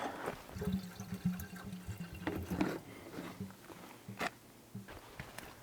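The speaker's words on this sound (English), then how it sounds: "A little bit of spilt water where I missed the fill." Water poured from a gallon jug into a Buick's radiator, with irregular gurgling splashes, some spilling where the fill was missed, and small knocks and handling noises in between, close up with no talking.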